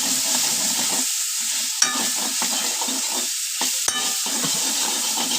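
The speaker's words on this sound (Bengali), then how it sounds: "আর এটাকে মানে নাড়তে থাকবে যেন লেগে না যায়" A spoon scraping and stirring white sauce pasta in a hot pan, soft sizzling with uneven stirring strokes and a couple of sharp clinks, close and alone.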